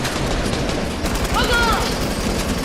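Rapid gunfire from a gun in the Fortnite video game, a dense continuous burst of shots running the whole length, mixed with game sounds and voices talking over it.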